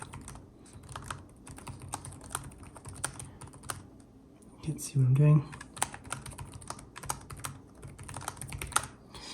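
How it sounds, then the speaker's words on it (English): Steady, rapid typing on a 2022 ASUS Zephyrus G14 laptop keyboard, close up, with a brief murmured voice partway through and clicking continuing throughout. "Typing."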